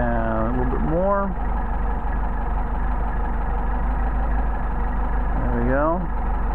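A Mercedes 190SL engine with Solex carburetors idles at a steady, fast idle, a continuous low rumble running throughout, with a rising and falling tonal whine at the start and near the end.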